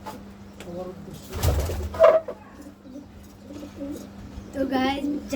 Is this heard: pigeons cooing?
yes